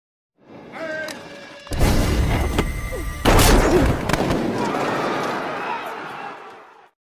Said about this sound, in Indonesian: pasukan bersenjata tiba-tiba berbalik serempak dan menembak ke arah Mayor Garcia